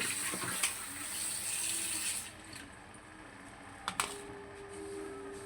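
Water runs into a basin to soak fish, a steady splashing flow close by that eases midway, with a couple of sharp knocks toward the end.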